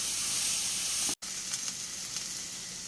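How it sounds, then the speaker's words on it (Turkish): Carrots sauté in a pan over high heat with no added water, giving a steady, loud sizzle and hiss that cuts out briefly and then carries on. "Yüksek ateşte sulandırmadan kavurmaya başlıyorum."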